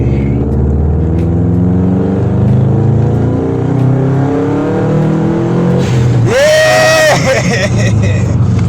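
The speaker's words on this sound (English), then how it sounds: "As you know, 4-wheel drive, boxer engine, 2-liter turbo." A car with a 2-liter turbocharged boxer engine and four-wheel drive drones and revs under the chatter of people inside, then the turbo whistles and hisses sharply as the throttle lifts near the end.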